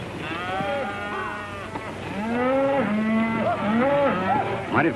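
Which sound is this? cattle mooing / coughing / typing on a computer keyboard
cattle mooing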